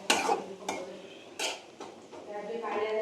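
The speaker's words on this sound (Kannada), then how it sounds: "ಇವಾಗ ಅವನು ಅದನ್ನು ನೀಟಾಗಿ ಫ್ರೈ ಮಾಡ್ತಾ ಇದ್ದಾನೆ." Onion and green chili frying in oil in a pan, with intermittent stirring and clattering of a utensil against the pan over a low sizzle, close by.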